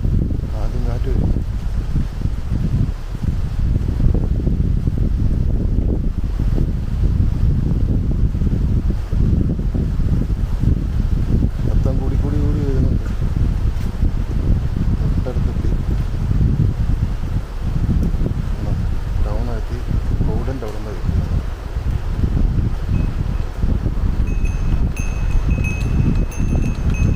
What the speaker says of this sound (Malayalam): ആദ്യം കാറ്റ് വരും.